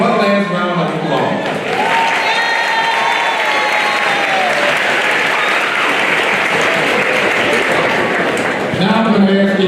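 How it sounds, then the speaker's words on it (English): Sustained applause from a large commencement audience fills the space, dense and loud throughout, with a voice faintly heard under it at the start and end. "One last round of applause."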